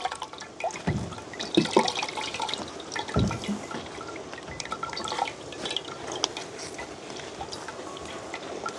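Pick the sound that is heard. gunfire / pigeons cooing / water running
water running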